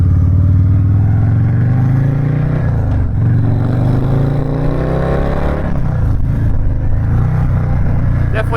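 A custom Stage III Harley-Davidson Sport Glide motorcycle engine rumbles loud and close with a steady deep drone, its pitch rising and falling through revs, briefly dipping around the middle and again near the end.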